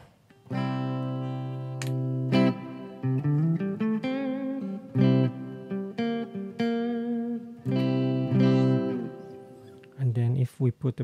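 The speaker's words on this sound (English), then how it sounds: "So we're gonna put a bit of reverb." Electric guitar with a touch of pedal reverb, played through a Park G10 amp in a DIY isolation cabinet: sustained chords and sliding melodic lines with a lingering tail, close and steady, no talk.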